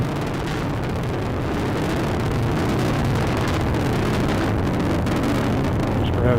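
Atlas V rocket with its RD-180 engine roars through launch ascent, a loud, continuous broadband rumble that holds steady throughout with no breaks.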